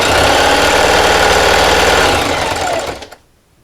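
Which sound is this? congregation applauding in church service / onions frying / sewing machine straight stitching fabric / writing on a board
sewing machine straight stitching fabric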